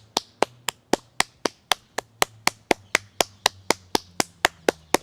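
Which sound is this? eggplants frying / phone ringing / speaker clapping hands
speaker clapping hands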